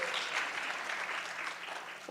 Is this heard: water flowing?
no